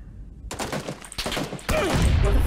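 Rapid bursts of gunfire from PUBG crackle in quick succession after a quiet opening and then build into a dense, loud volley near the end, with no voice over it.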